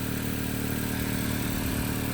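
A crash-damaged 2025 Honda Accord with a suspected turbo fault and a leak hums steadily at a constant drone from inside the moving car, with no talking.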